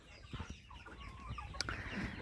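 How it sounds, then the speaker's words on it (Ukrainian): Sasso roosters cluck and murmur close by in a farmyard, with scattered short calls over a low background rumble. "Це півники сасо."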